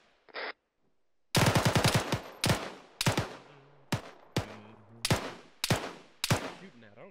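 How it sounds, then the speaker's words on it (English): Bursts of gunfire aimed at a bunker in a military video game: a rapid automatic string, then a run of sharp single and double shots at irregular intervals, each cracking loud and close and echoing off into the distance. "I'm just popping rounds at that bunker."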